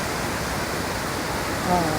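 Sea waves washing against a rocky shore on a Tel Aviv beach, a steady loud broadband roar of surf with a brief faint voice near the end.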